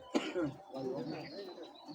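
A young male silver racing pigeon of large build gives a soft, low coo close by, a brief throaty call with a short burst near the start followed by quieter murmuring.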